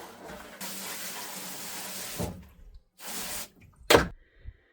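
Tap water runs steadily into a sink during cleanup after washing a barbecue in a Newfoundland kitchen, flowing for about two seconds, stopping, then coming in short bursts with a sharp splash near the end.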